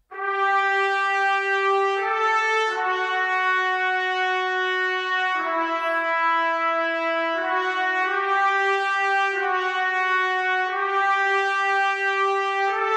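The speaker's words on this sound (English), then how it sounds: "the trumpets in solo sound like this." Solo trumpets from the Forzo library by Heaviosity play loud, high, sustained tones that change pitch every second or two in a bright, brassy, unbroken line with no other instruments.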